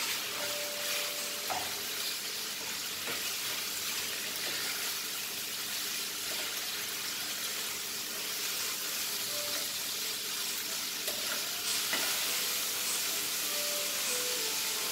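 Mutton curry gravy with Suhana masala sizzles and bubbles in a pan as it is stirred, a steady, even hiss that continues alone for the whole stretch with only faint occasional scrapes.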